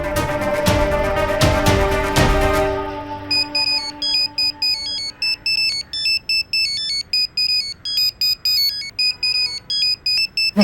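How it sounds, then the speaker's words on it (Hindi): A mobile phone rings with an incoming call, a repeating electronic ringtone of bright beeping tones that begins after a louder burst of other sound and then keeps pulsing steadily on its own. "मिस्टर रूप दीक्षित कॉलिंग"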